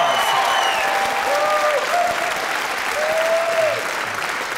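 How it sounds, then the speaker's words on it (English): Theatre audience applause after a community adult drama group's staging of Disney's Beauty and the Beast, a dense steady wash of clapping from a full house with faint whistles or cheers riding on top, sustained throughout without speech. "give him and the orchestra a well-deserved round of applause."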